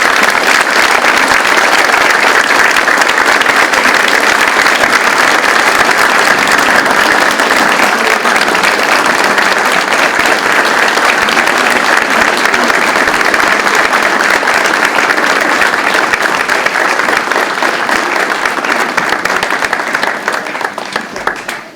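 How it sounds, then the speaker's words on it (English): A Veterans Day ceremony crowd gives loud, sustained applause as a woman comes up to the stage, a thick continuous roar of clapping holding steady for about twenty seconds before dropping away at the end. "I would like to ask all of you for a round of applause for her as she comes up to the stage"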